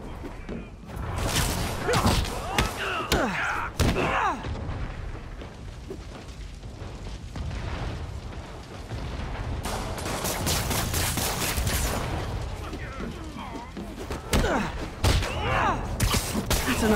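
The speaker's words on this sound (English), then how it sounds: "More rockets? A little excessive, don't you think?" Barrages of rockets launch and burst in Marvel's Spider-Man video game, a dense, loud volley of rapid blasts and booms that swells and recedes over several seconds, with faint game voices underneath.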